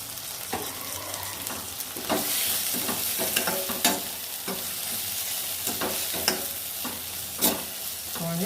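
Onions and tomatoes saute in a pan for chicken pulao, with a soft continuous sizzle. A spoon scrapes and stirs in repeated sharp strokes, close by and fairly quiet.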